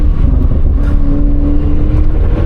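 2017 Audi RS6 C7 quattro accelerating, a steady close engine drone with faint tonal whine, heard briefly and alone without talk.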